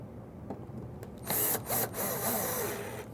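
Power drill driving low-profile screws into a drawer slide inside a cabinet, a faint rustle building to short bursts of whirring motor, fairly quiet and close.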